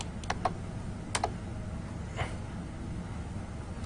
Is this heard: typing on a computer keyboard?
yes